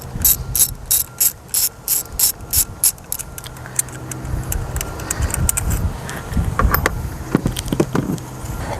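A ratchet clicks in quick close bursts while loosening spark plugs on an Audi/VW engine, followed by clanking and rattling tool and metal handling.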